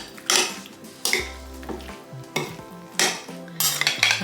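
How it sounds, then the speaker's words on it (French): Spoon scraping and clattering through a bowl of pasta salad with cut feta, several distinct stirring strokes with clinks against the bowl, close and fairly quiet, no talk. "Et je mélange."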